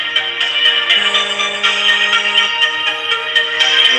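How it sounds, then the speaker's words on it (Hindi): Phone ringtone playing loud and close, a bright repeating electronic melody with steady rhythmic pulses and a sustained low tone underneath for part of the ring, continuing without anyone speaking. "फोन आ गया।"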